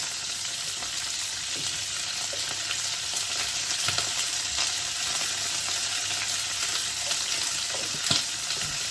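Asafoetida dropped into a pan of sizzling onions, cumin and green chilli, a continuous close hiss of hot oil with occasional light stirring taps, no voices.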